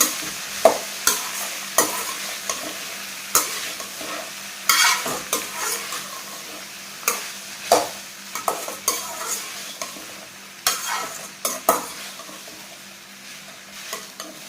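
Sliced okra fries in a hot pan, stirred with a steady series of scraping utensil strokes over a soft, continuous sizzle, close and clear, with no voices.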